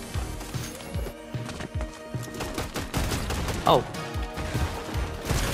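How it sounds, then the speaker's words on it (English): Shotgun blasts in Fortnite, several loud sharp shots at irregular intervals amid game effects, with a voice exclaiming briefly over them. "I love this shotgun"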